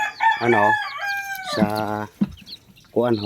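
A hen and her chicks cluck and call close by in short, throaty bursts, one drawn-out note rising and falling among brief clucks.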